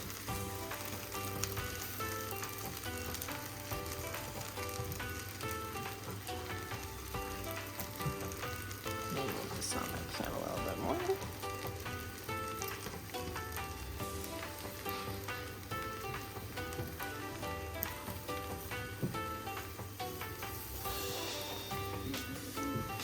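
An egg fries in a pan for hibachi rice bowls, giving a steady, moderately loud sizzle that continues evenly for the whole stretch with no talking.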